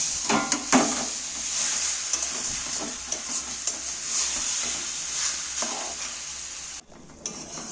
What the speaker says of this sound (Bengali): ওই ফোড়নের যে তেলটার মধ্যে ফোড়নগুলোর মধ্যে ভালো করে একটু ভেজে ভেজে নেব আমটা